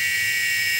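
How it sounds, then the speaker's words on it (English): A DragonLink low-voltage alarm goes off at 15 volts, a steady, loud, high-pitched electronic tone that holds without a break, with a low rumble underneath. "The dragon link just started going off at 15 volts."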